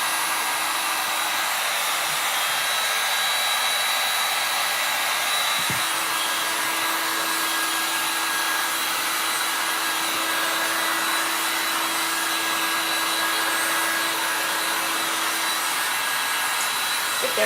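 A heat tool blows hot air over a craft stamp surface, a loud, steady whooshing roar that runs unbroken and close for the whole stretch with no talking.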